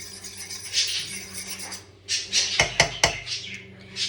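Scrambled eggs are mixed in a bowl with a utensil, making clattering and scraping knocks, including a quick burst of sharp taps against the bowl partway through, over a low background hum.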